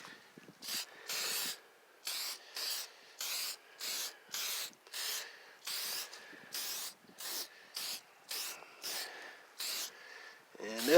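Short bursts of aerosol spray from a Meguiar's headlight restoration kit coat badly neglected car headlights, about fifteen quick hisses in a steady rhythm, close and fairly loud with brief gaps between.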